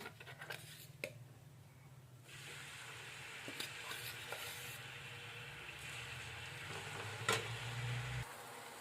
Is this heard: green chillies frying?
yes